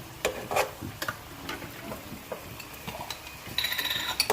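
Tomatoes go into sizzling mutton koyla karahi, with scattered clinks and scrapes of a utensil in the pan, then a louder crackling burst of frying toward the end.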